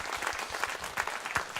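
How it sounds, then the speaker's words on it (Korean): A church congregation claps for the choir at a Christmas service, a dense, steady wash of many hands with slight rhythmic surges, moderately loud and without speech. "성가대에게 힘차게 격려의 박수를 드립니다"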